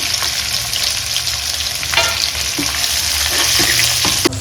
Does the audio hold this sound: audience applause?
no